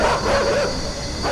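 A dog barks in the side-scrolling video game INSIDE, a loud, steady, sustained stretch of canine barking and yipping layered over dense game ambience, with no talking.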